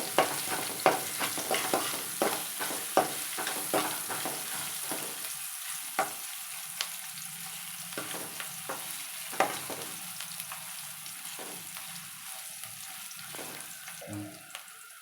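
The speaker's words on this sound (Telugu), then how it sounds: "కొద్దిగా అల్లం వెల్లుల్లి పేస్ట్ వేసుకొని పచ్చి పచ్చివాసన పోయే వరకు వేయించుకోవాలి" Ginger garlic paste fries in oil for capsicum rice, a continuous close sizzle broken by repeated stirring scrapes and clicks of a spoon in the pan, with water-like spattering; no talking.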